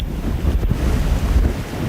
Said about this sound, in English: I would say now we're getting sustained winds of 15 to 20 and gusts more in the 30 to 40 range